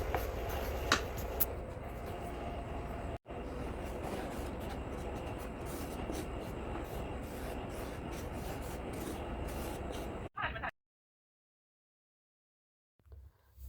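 Flour being stirred and roasted in a pan over low heat until lightly browned, a continuous close dry scraping and rubbing for about ten seconds, then an abrupt stop into silence.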